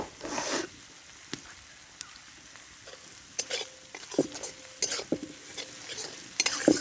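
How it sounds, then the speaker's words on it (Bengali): Onion frying in a pan with a little salt and sugar for stuffed pointed gourd with prawns, giving a soft steady sizzle broken by several sharp scrapes and clinks of a spatula stirring against the metal. "পেঁয়াজটা একটু ভাজা ভাজা করে নিতে হবে।"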